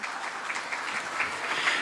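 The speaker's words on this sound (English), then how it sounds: "Please give him a big round of applause" Audience applause at a school annual prize distribution ceremony, a steady wash of many hands clapping close and continuous throughout, with no voices over it.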